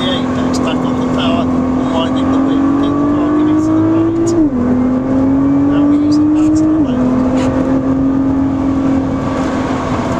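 Nissan GT-R R35 engine pulling hard on the Oulton Park circuit, a loud steady drone climbing in pitch through two gear changes, with an instructor's voice talking over it.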